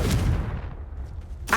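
A Confringo fire spell is cast in Hogwarts Legacy with a single sharp, loud blast that decays quickly, followed by a short bright crack at the very end.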